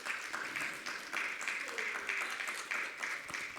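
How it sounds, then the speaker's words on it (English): Audience clapping at a trade union conference on African debt sustainability, a steady broadband patter of hands lasting throughout, moderately loud, with a brief faint voice underneath. "Please clap hands for Dr. Hogg."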